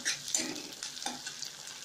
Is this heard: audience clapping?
no